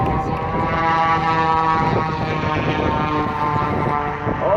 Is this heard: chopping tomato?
no